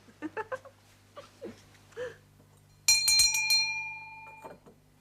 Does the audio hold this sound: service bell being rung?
yes